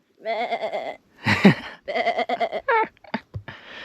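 A person imitates a goat with a series of wavering, nasal bleats beside a goat pen in Hawaii, loud and close with short gaps between calls and no other talk.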